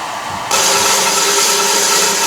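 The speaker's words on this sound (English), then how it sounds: "So the motor is running at its fullest speed." An electric motor driven by a variable frequency drive at 60 cycles jumps abruptly from quiet to a steady, high whine at full speed, then holds that even, continuous hum.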